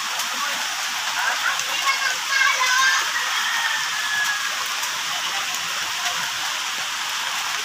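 Strong floodwater rushes during a downpour in rural Leyte, Philippines, a loud continuous watery roar with rain hiss throughout, briefly swelling midway, while someone speaks faintly over it.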